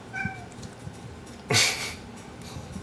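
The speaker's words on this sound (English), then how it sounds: "We have our cats who are starving because it's almost time to eat." Hungry house cats meow before feeding time, with a short meow near the start and a louder, longer cry midway, close by against quiet room noise, no talking.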